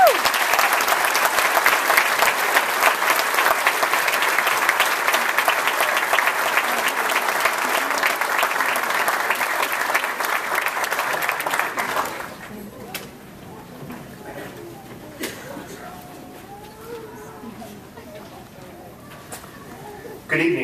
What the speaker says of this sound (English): Let's give our graduate speakers one more large round of applause.